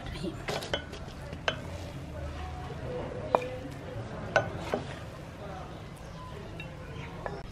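Kofta pulao, rice with mutton meatballs, is spooned from a pot onto a plate, giving scattered scrapes, soft scoops and sharp clinks of a metal spoon against the cookware while someone talks.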